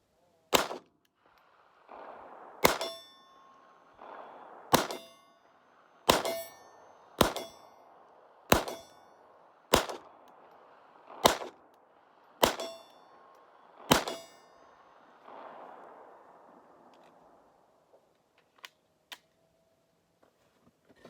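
A Glock 44 pistol fires bulk ammo at about 30 yards outdoors, giving ten sharp, loud reports at roughly one-second intervals, each followed by a short ringing decay, then a few faint clicks.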